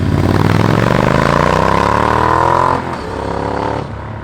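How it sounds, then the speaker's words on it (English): A Triumph Speed Twin 1200 motorcycle with Akrapovic slip-on exhausts and an X-pipe revs hard, its engine note climbing steadily for a few seconds, then dropping sharply and settling into a lower, loud throaty rumble close by. "At idle, this motorcycle won't wake the neighbors, but at full throttle, it'll wake the dead."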